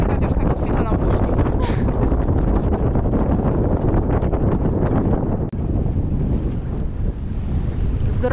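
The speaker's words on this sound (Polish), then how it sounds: "jest zimno, bo wieje okropnie" Strong wind roars and buffets the microphone steadily out on the water, a loud continuous rush over boat and wave noise, with rain and cold conditions at an anchorage off East Head, England.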